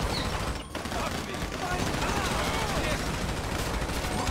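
Dense, continuous gunfire from a casino heist in the GTA video game, rapid shots blurring into a loud sustained barrage that runs through the whole stretch.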